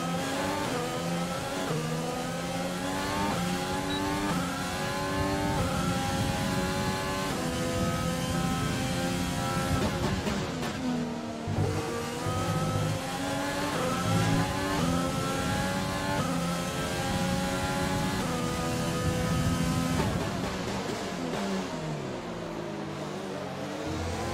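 Formula 1 car engine in the F1 2020 racing game at the Canada circuit, a continuous high-pitched roar that climbs and drops through gear changes for the whole stretch, loud and unbroken.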